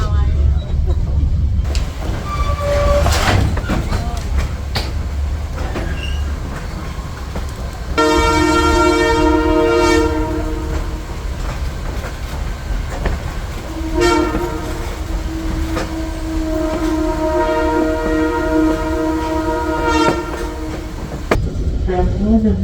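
A passenger train on a scenic ride through Iowa sounds its horn in two long, loud blasts that stand out over steady rumbling rail noise and wind, with a voice talking partway through.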